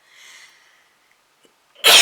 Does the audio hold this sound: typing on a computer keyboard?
no